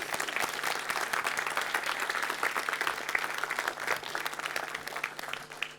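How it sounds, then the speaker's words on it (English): An audience at an Aletta impact event breaks into sustained applause, with dense, steady clapping filling the whole stretch at an even loudness. "may I have the biggest applause today yet for the former scientific director of Aletta, Jochen Mierau."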